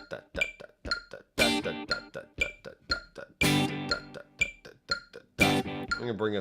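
An electric guitar plays through a Headrush delay set to eighth-note timing at 240. Quick plucked notes repeat in a tight, bouncing rhythm with echoes trailing each phrase, close and clear, with no talking.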